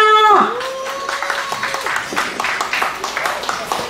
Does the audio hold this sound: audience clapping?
yes